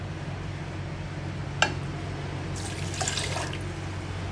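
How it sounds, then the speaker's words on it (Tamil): Water poured into a cooking pot for ginger tea, a quiet steady trickle under a constant low kitchen hum, with a sharp clink partway through and a short louder splashing stretch near the end. "இப்போ இதுக்கு 2 கிளாஸ் தண்ணி ஊற்ற போகிறேன்."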